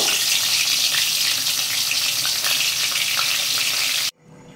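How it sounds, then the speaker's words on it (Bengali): Fish heads fry in hot oil in a wok, giving a loud, steady, dense sizzle with faint crackles throughout that cuts off abruptly near the end, leaving a quiet room tone. "এবার মাছের মাথা দুটো ভেজে নেব"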